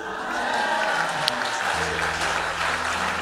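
A church congregation breaks into sustained applause, a dense, steady wash of clapping that stays loud throughout, with voices and a low hum of the room mixed in.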